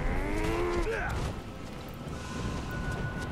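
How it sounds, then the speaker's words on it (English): Cow mooing in Sekiro: Shadows Die Twice, a drawn-out lowing call with a falling pitch that fades after about a second, followed by a dense, noisy in-game ambience. "Sounds like cow."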